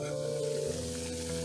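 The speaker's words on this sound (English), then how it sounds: "my water is boiling" A pot of water bubbles at a full boil on the stove, a soft, continuous hissing simmer, close by and with no one talking.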